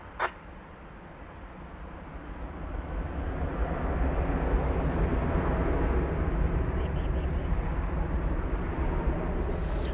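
An airliner landing at DFW Airport, a broad engine roar that swells steadily over several seconds and holds at a high, even level, heard from a distance.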